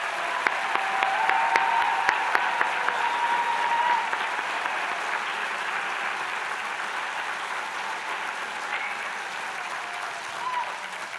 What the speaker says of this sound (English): giving them a round of applause to celebrate their amazing achievements